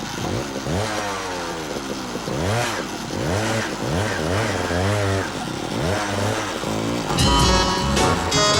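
A motorcycle kicked into life for a Pakistani drama scene, its mid-pitched engine revving and rising in repeated surges, close and loud throughout, with a brief burst of higher rattling near the end.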